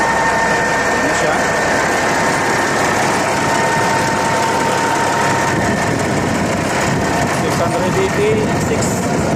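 A Caterpillar engine, just repaired after a broken valve, runs at a steady idle close by, a continuous rumbling drone with light rattles and some talking over it.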